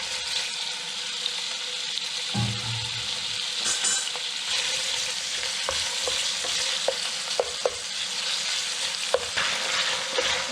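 Sliced New York style hot Italian sausage fries in a pan with a steady, close sizzle, broken by scattered clicks and scrapes of stirring.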